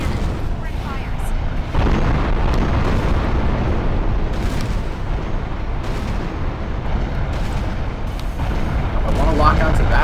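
Heavy cannon fire and explosions roar through an Armored Core 4 mecha battle, a dense, loud, continuous rumble punctuated by repeated sharp booms and blasts.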